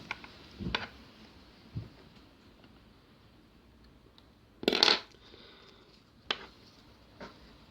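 Scissors snipping thread during beaded needle lace work: a few sharp, separate metallic snips and clicks, brief and close, with quiet gaps between them.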